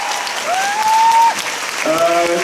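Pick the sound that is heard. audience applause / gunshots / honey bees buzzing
audience applause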